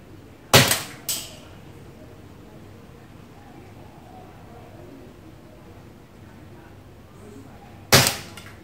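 Three sharp cracks from a WE Glock 19X gas blowback airsoft pistol fired at cans: two shots in quick succession near the start, then a single shot near the end, with a quiet stretch of room noise between.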